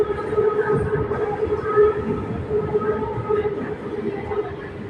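Steady rumble and hum of a BTS Skytrain in motion in Bangkok, heard from inside a carriage, with faint voices in the background.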